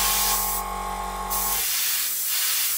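Spray can hissing as paint is applied to a Su-27UB scale model, a loud steady spray for about a second and a half that then cuts off, leaving a quieter room hiss.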